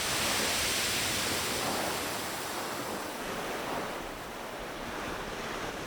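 Storm-driven ocean waves surge over a beach in Ventura, California, after a winter storm, a continuous loud roar of surf and rushing water that eases slightly toward the end.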